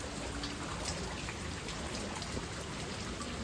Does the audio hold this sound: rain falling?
yes